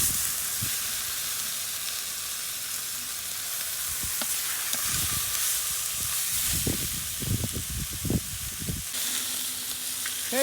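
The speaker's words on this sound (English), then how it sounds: "And the meat too, it sears so nicely" Beef searing in a pan over a wood-fed rocket stove, a steady close sizzle and hiss with occasional soft crackles and pops.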